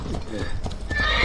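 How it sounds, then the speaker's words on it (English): Horse in the Assassin's Creed Brotherhood video game: quick hoof clip-clops and a brief whinny rising near the end, short and fairly close. "This isn't Ezio's favorite horse"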